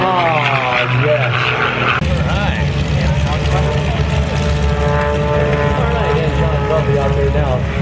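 A propeller aerobatic airplane roars overhead at an airshow, its engine pitch sweeping up and down as it turns back into the aerobatic box, loud and continuous with a deep drone underneath.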